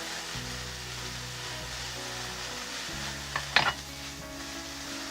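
Half an onion fries in butter in a pan, a steady soft sizzle with a brief scrape of stirring partway through.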